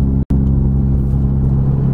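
A Honda Civic Type R with a valve exhaust gives a loud, deep, steady engine rumble nearby, cut briefly by a short gap at the start.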